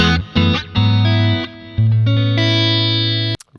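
An electric guitar through an iOS amp simulator plays loud, sustained distorted chords and notes, each one trailed by a heavy delay echo, with brief gaps between phrases and an abrupt stop.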